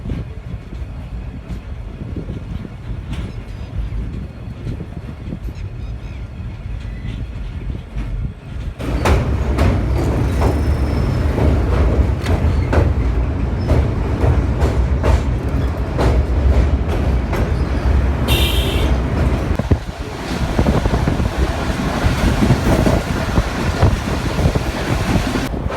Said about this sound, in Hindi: तो पूरे 3:30 बजे ट्रेन पहुंच चुकी है रिंग रोड रेलवे स्टेशन पर